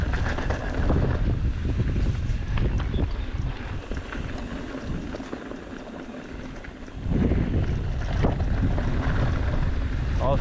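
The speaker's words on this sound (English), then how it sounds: "it's been incredibly windy" Strong wind buffets the microphone continuously on a mountain biking trail on Peavine Mountain near Reno, a loud low rumble that eases briefly, then surges again, with no voices.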